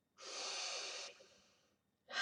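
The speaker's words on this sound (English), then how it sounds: "So we're just going to take a nice big deep breath." A deep breath in through the nose, a long loud inhale that tapers into a softer airy release, followed by the start of another breath right at the end.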